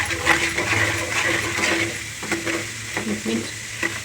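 Puffed rice (mandakki) being tossed and mixed in a pan gives a steady, close dry rustle with light scraping strokes that come in uneven bursts, with no talking.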